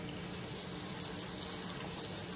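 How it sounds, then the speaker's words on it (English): Basil leaves rinsed under a steady stream of running tap water, a continuous even hiss and splash close by with no talking. "I just want to give them one more rinsing."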